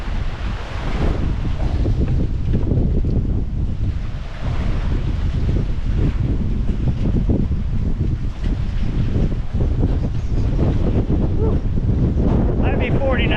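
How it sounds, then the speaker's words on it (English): Strong Hurricane Ian winds near 40 knots blow across the Islamorada waterfront in the Florida Keys, a loud, sustained roar of gusts and mic buffeting mixed with surf, with a voice faintly audible underneath. "Might be 40 knots, you guys, it's still blowing"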